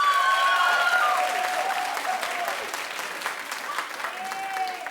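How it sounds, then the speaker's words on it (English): Talk show studio audience clapping loudly at the start, then the applause gradually thins and fades while scattered voices and whoops continue underneath. "Clap if you think it's wrong because she's a wife."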